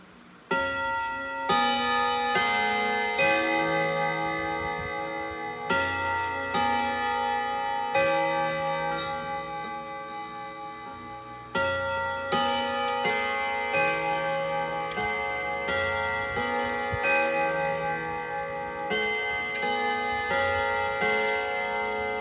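An antique clock's chime rods are struck by hand, one after another, ringing out a series of bright, resonant metallic tones that overlap and slowly decay, with no voices.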